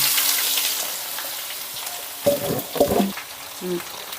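Ivy gourd pieces fry in hot oil tempering with dried red chillies, chana dal, urad dal, mustard seeds and cumin, giving a steady close sizzle with a few scraping stirs near the end.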